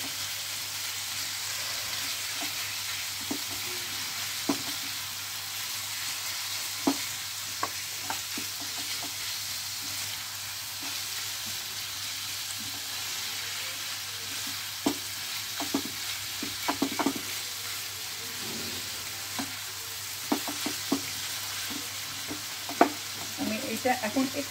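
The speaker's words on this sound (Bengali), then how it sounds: "খুব ভালো করে ওপর নিচ করে মিশিয়ে নিতে হবে।" Doi kima is stirred and turned in a pan, with scattered scraping clicks and taps that grow busier toward the end over a low, steady sizzle. No voices.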